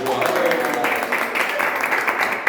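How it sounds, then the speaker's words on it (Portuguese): A church congregation applauds a strong group of students, a steady wash of clapping that runs throughout, loud and close, blended with crowd noise and voices. "Vamos aplaudir esse exército abençoado."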